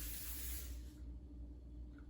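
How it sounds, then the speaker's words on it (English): A brief hissing burst of cooking oil spray onto a pan heating over medium-low heat, fairly faint, lasting under a second before quieter background. "Oil spray."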